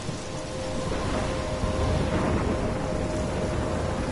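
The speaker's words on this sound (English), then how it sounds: "I'm trapped in a storm?" A thunderstorm with heavy rain in the video game Life Is Strange: a steady, loud roar of downpour that fills the whole stretch, with low rumbling beneath and no talking.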